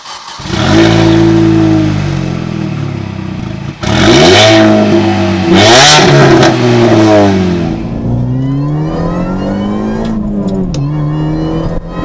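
Supercharged early-generation BMW Mini, front-wheel drive, accelerating hard on the road with loud, close engine revving that climbs through gears in rising sweeps, punctuated by brief shift gaps, with no talking.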